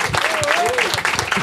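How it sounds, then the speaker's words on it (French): Applause from a studio audience greets a guest named Claude on a French comedy show, a dense burst of clapping with voices and a whistle-like tone riding over it, lasting only briefly. "on peut l'applaudir"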